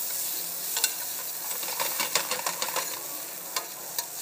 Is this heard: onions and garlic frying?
yes